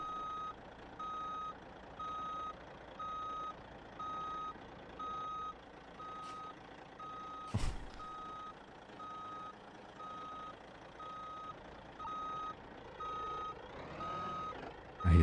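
Truck in BeamNG.drive reversing, its backup alarm sounding steady evenly spaced beeps throughout, fairly loud and close, with a brief sharp thud partway through and engine rumble underneath.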